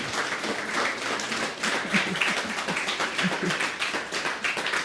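An audience applauds after a musical performance, a dense, steady patter of many hands clapping at moderate distance for several seconds.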